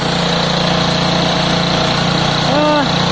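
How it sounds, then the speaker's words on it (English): Piaggio Fly scooter engine idling slightly high, a close, steady buzzing putter that stays continuous throughout, with a voice briefly heard over it. "Idle's a little bit high, but we'll sort that out."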